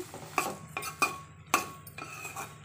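Brinjal pieces stirred in a metal cooking pot with a spoon, several sharp metallic clinks and scrapes at an irregular rhythm, close and clear with no voices.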